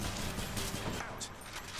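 Rapid cannon fire from the video game Hades, a dense continuous rattle of repeated shots with a brief burst of explosive noise near the end, loud and busy throughout with no talk.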